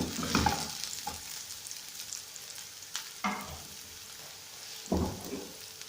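Onions frying in a pan, with a steady sizzle broken by several distinct spatula scrapes and stirs, close and clear, with no voices.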